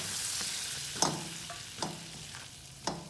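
All-purpose flour roasting in melted butter over very low heat gives a soft, steady sizzle, broken by a few sharp scrapes and taps of a stirring spoon against the pan, close and quiet.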